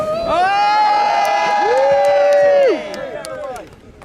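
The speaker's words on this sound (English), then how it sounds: "What a crowd! What a roar!" A large outdoor crowd at a Reform UK political rally in Clacton-on-Sea cheers and roars loudly with sustained whoops and shouts that swell, hold, then fade as the noise settles.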